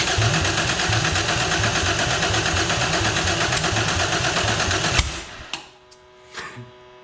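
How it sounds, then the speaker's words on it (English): A Ford V6 turbo engine cranks over on the starter during a compression test, its rapid, even pulsing chug running for about five seconds before abruptly stopping, followed by a few faint clicks. "I think we're running out of juice again, because the engine is spinning slower and slower."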